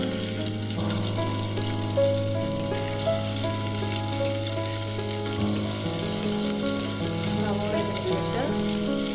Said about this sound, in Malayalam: നന്നായിട്ട് ചെറിയൊരു ബ്രൗൺ കളറാണ് വഴറ്റിയെടുക്കാം.